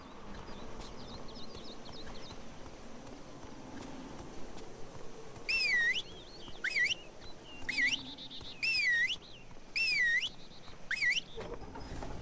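Whistling from the Sacred 2 Remaster game: a run of about six short rising-and-falling whistled phrases repeats over faint ambient game sound, each one bright and fairly loud.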